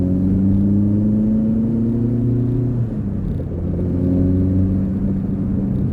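Fiat Cinquecento engine with slightly tappy adjustable tappets running steadily up close, its low rumbling hum dipping briefly midway before picking back up.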